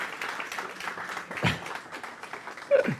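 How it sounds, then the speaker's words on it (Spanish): Modest applause from a gathering welcoming a guest to the stage at a faith event, thin and uneven, with a few louder thumps and handling noises breaking through. "La recibimos con un fuerte aplauso"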